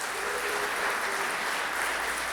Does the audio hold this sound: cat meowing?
no